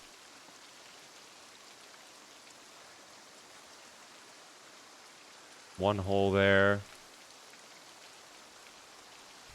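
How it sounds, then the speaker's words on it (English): Rain falls steadily in the survival video game Cataclysm: Dark Days Ahead, a soft, even hiss that runs throughout. Someone speaks briefly partway through. "The rain is getting worse, too."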